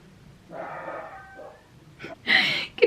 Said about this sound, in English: Can you hear the dogs going absolutely mental?